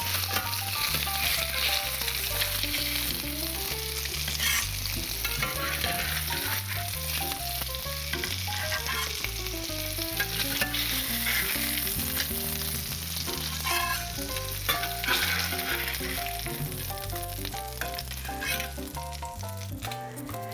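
Salmon pieces fry in a pan with a continuous crackling sizzle that runs the whole time beneath tuneful background music, with no speech.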